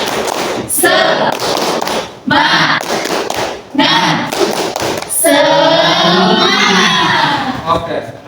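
A school class in a Qur'an lesson performs a rhythmic spirit clap, with loud group claps in short patterned bursts, broken by children chanting and shouting together.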